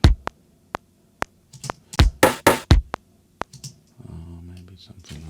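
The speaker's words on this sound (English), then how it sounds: "Maybe that rim shot is a bit too low." Rim shot drum hits programmed in Logic Pro X for a song deconstruction, sounding as sharp, isolated clicks in a sparse rhythm, then a denser burst of hits, followed by a sustained tonal pad at the end.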